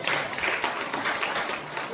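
Audience clapping at a Lions Club International zone social gathering after a speech, a steady wash of many hands filling the two seconds at moderate level with faint voices mixed in.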